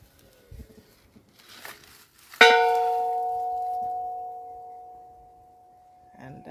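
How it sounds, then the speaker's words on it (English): A gate bell at a historic great house in Jamaica rings once when its string is pulled, a sharp clear strike followed by a long, slowly fading metallic ring heard up close outdoors. "I pull the string and ring the bell"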